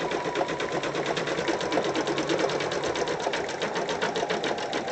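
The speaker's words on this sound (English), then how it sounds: "As you can see, the embroidery is progressing here." An embroidery machine stitches variegated thread onto a pencil case, a fast, steady mechanical chatter of needle strokes that runs loud and unbroken throughout, with no talking.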